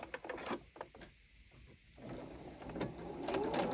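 Sewing machine back-stitching a heart-shaped pillow, a quiet bursty mechanical whir in short stitching runs that pause and restart, with no talk.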